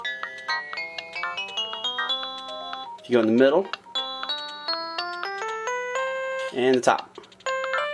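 Nintendo DSi photo channel piano: quick, bright electronic notes tapped out one after another in a lively melodic run, with a person speaking briefly in between.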